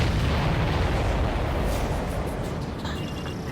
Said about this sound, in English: Did you see that explosion? Looks like that's one of them down.